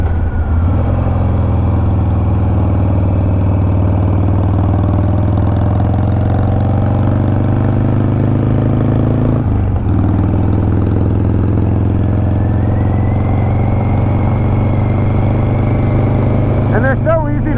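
A Harley-Davidson motorcycle engine runs steadily, close and loud, with a deep low rumble that holds throughout and dips briefly midway.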